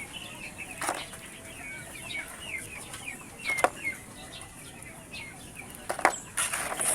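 Rhode Island and Brahma native hens in a backyard coop, giving repeated soft clucks and chirps along with several bursts of wing flapping nearby.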